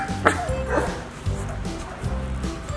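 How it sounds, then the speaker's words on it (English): A month-old Labrador puppy gives several short, high yips and barks in quick bursts, close to the microphone, with a brief pause between groups. "Good bark."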